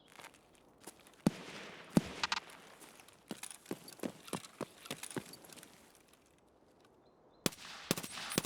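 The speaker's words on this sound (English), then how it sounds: "There's the guy that was shooting, it looks like." Enemy gunfire in a video game: sharp, scattered shots, some single and some in quick runs of several cracks, fairly faint at a middling distance, with a short pause before a final cluster.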